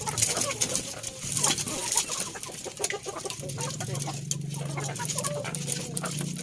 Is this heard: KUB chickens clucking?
yes